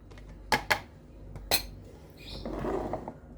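Stuffing ingredients for rice and vegetable stuffed vine leaves being mixed in a bowl, with a few clinks of a utensil against the bowl, then a soft, moist stirring and scraping.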